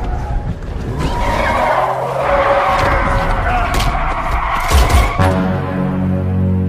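A car swerving in a film scene, tires skidding and squealing loudly over a revving engine for several seconds, then cutting abruptly to a quieter lower rumble.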